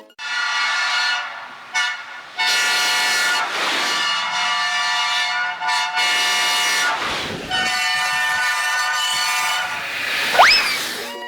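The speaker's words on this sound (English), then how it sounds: "The units came equipped with Nathan K5LA air horns." Nathan K5LA air horn on an Amtrak AEM-7 electric locomotive sounds in several long, loud, close blasts separated by short gaps, with a rising whistle-like tone near the end.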